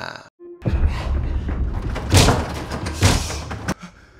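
A refrigerator shoved against an apartment front door, heavy scraping and grinding with two loud thuds as it is pushed into place, fairly close.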